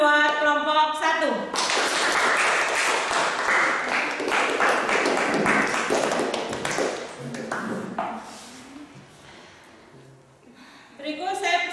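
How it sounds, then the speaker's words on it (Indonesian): A classroom of students claps for the first group after its presentation in an in-person lesson: a dense, steady burst of many hands lasting several seconds, fading toward the end, with voices briefly at the start and close. "tepuk tangan buat kelompok 1"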